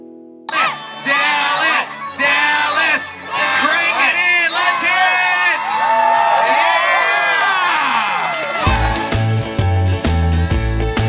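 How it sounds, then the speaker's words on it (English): A county fair crowd cheers, whoops and shouts loudly with many high excited voices, including children, before a sudden switch to amplified music near the end. "maybe you guys need to get just a little bit louder and make some noise"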